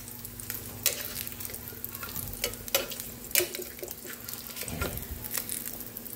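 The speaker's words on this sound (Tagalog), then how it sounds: "Nagpaprito ng spam yung aking alaga." Spam fries in a pan with a steady crackling sizzle and scattered sharp pops and spatters, close and moderately loud, with no talk.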